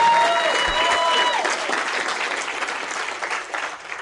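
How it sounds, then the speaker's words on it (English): A sustained round of audience applause. It is loudest at the start, with a few tonal chirps or whistles early on, then it thins out gradually over four seconds. "Let's give Denise and John a big round of applause."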